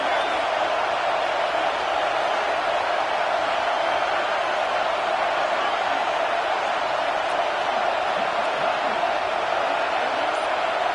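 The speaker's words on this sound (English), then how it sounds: "And here comes the noise. This crowd is trying to inspire this defense to make a big red zone stop." A stadium crowd in a football video game roars in a continuous, loud wash of cheering during a red zone defensive stand, with no break or change in intensity.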